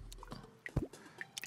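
Digging into water in the video game Terraria gives small wet squishing, dripping and plopping sounds, a few brief liquid blips scattered across the moment with no talk.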